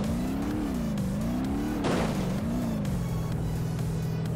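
A slow tractor engine in the BeamNG.drive driving game laboring uphill, a low droning hum whose pitch wavers up and down as it revs, with a brief burst of noise midway, continuous and close.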